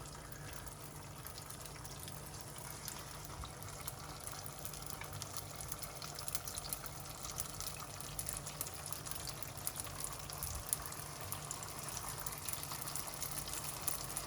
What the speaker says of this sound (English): The oil looks pretty hot, so we're ready to go ahead and start frying.